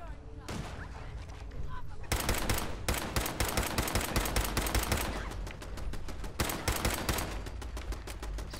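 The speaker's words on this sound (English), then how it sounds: "Turret firing." Rapid automatic turret fire in Fallout 4, a dense sustained burst of shots running almost continuously, loud and close, with a brief lead-in before the firing thickens.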